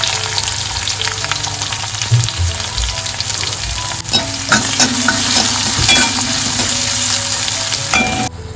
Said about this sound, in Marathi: कढईमध्ये तेल घातलंय आणि राई घालून घेतोय एक चम्मच लसूण घालतोय कढीपत्ता एक चमच जिरा घालतोय मी कांदा घालून घ्यायचो